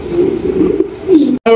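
A large racer pigeon coos in a low, steady warbling drone that swells and dips for over a second, close and fairly loud, then stops briefly before a short burst of another sound.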